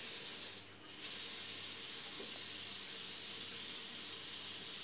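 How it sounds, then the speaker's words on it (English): Utensils are washed under a running sink tap, giving a steady hiss of flowing water that dips briefly early on, along with a faint clink, and no speech. "Part of the cooking is washing all the utensils."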